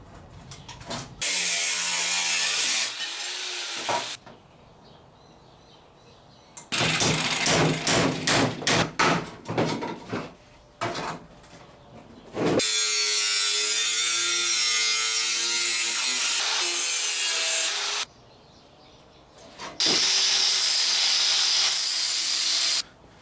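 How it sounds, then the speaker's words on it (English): A power cutting tool slices through the rusted metal of a 1960s car's front fender in loud, harsh bursts lasting a few seconds each, with quiet gaps between cuts and no talking. "I'm going to cut it off, and then we're going to trim it nice and neat."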